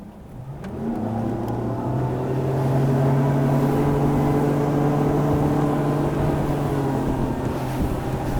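A 2023 Lund 219 Pro V GL boat with a Mercury outboard runs on open water. The engine drones loud and steady as it climbs in pitch while gaining speed, with wind rushing past.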